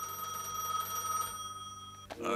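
A telephone rings steadily in a gas station simulator game, a sustained electronic ring that cuts off abruptly near the end.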